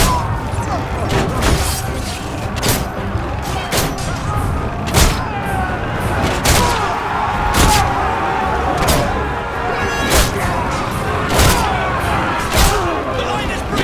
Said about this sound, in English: Order the catapult nest to line up on the palace courtyard.